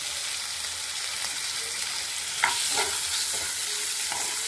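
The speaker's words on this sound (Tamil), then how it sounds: "தக்காளி எல்லாம் நல்லா வதங்கி வந்துடுச்சுங்க" Tomatoes with turmeric, chili powder and salt sauté in a pan, giving a steady broadband sizzle with faint stirring scrapes and a slightly louder stir midway, no voices.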